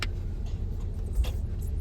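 Cars idling and creeping in a stalled traffic jam on a road near Trimbakeshwar, Nashik, with a steady low engine rumble and faint scattered higher noises.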